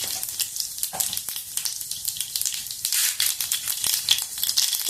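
Cumin and mustard seeds sizzling in hot oil, a close, busy crackle with bright popping bursts that grow louder toward the end.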